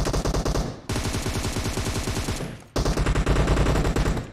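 Rapid, loud gunfire from a sniper rifle in a video game, dense repeated shots in two bursts separated by a brief gap, with no talk.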